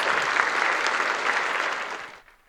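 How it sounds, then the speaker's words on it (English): A university spring gala audience applauds steadily for a couple of seconds, then the clapping fades out quickly. "So let's give them another round of applause."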